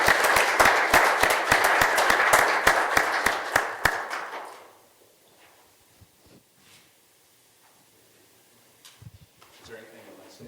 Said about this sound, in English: We could have a round of applause.